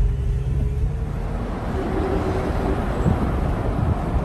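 Las Vegas city street traffic heard from a moving vehicle, a continuous low engine and road rumble with a steady wash of passing cars, moderately loud and without talk.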